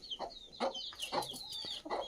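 Several free-range village chickens cluck close by in quick, repeated bursts of short, throaty calls.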